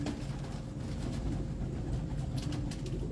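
Pigeons coo at a champion pigeon-keeper's loft, low soft calls repeating under a steady background murmur.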